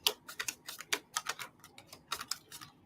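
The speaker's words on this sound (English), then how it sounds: "why don't I go ahead and give them a really good shuffle?" Deck of playing cards being shuffled at home, a run of quick crisp riffling clicks and flutters in uneven bursts, close and fairly quiet, with no voices.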